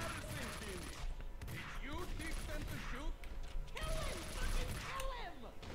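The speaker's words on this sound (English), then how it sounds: "Who are they shooting at?" Bursts of gunfire from a Max Payne 2 shootout ring out in fits over several seconds, with mechanical clatter and someone talking over the action.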